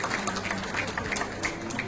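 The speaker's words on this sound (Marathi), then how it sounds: "जोरदार टाळ्या झाल्या पाहिजेत त्यांच्या वास्तविकतेसाठी।" Audience applause at a gathering, a short burst of steady clapping from a crowd at moderate distance.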